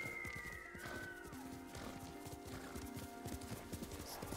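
A horse's hooves clip-clop at a steady walking rhythm in the Ghost of Tsushima video game, the quiet repeated thuds sitting under a soft ambient game soundscape with faint tonal music.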